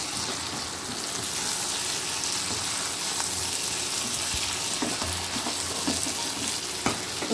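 Ridge gourd flowers with prawns fry in hot oil in a pan, a steady close sizzle with occasional stirring scrapes and clicks throughout.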